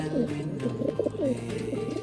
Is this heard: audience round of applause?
no